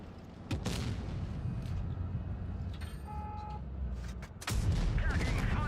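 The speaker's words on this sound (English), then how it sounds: "I managed to shoot the Waffentrager" Tank cannon shots in World of Tanks Blitz, from an E50 battle against a Waffentrager, come as sharp booming blasts near the start and again near the end, over a constant low engine rumble with game effects.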